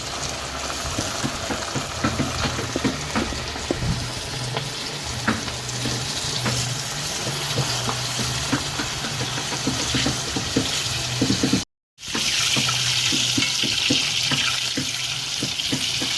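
Chicken sizzles steadily in hot oil over an outdoor coal fire while being French fried to a crisp: a dense, continuous crackle with scattered pops, interrupted once by a brief cut before resuming just as loud.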